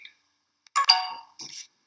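A computer's incoming call ringtone plays as a short series of clear electronic tones, bright and close, in an otherwise quiet room.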